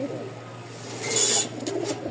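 Pigeons coo softly amid the bustle of a pigeon market in Mirpur, Dhaka, with low ambient hum and a few brighter rustling bursts in the middle.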